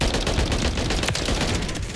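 Automatic gunfire in Call of Duty: Modern Warfare, a dense, continuous stream of rapid shots blending into a loud rattling roar that runs for the whole moment with no speech.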